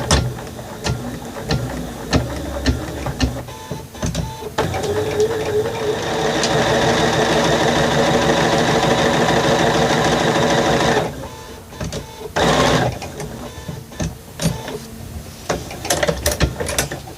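A sewing machine runs a continuous stitching burst on half-inch side seams, loud and close, with short stops and starts and handling clatter before and after.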